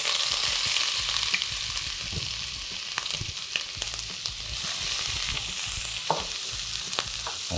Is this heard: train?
no